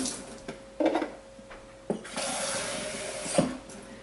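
Water poured onto raspberries for sauce, a steady close pour with a few splashes and clinks along the way.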